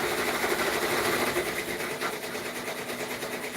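A Brother multi-needle embroidery machine stitching, a steady, even mechanical whir with a fast rhythmic chatter that holds at a moderate level throughout.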